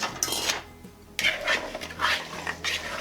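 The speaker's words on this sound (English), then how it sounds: "Now I'm going to mix all this together in a big bowl" A spoon scrapes and clinks against a big bowl while cranberries, fruits and spices are mixed together, a few close, uneven bursts of rubbing and stirring separated by short pauses.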